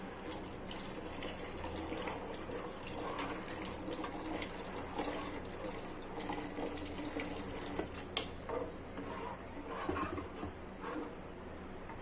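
Water pouring into a pan of tamarind-leaf egg curry, a faint steady splashing and trickling stream with a few drips, heard close and alone.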